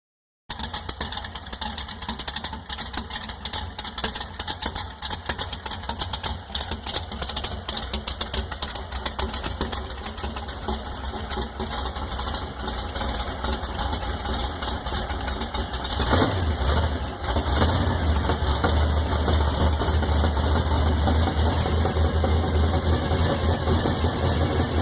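Rebuilt Triumph Bonneville motorcycle engine idling steadily, a dense, continuous rapid mechanical chatter heard up close for the whole stretch, with a slight change in tone partway through.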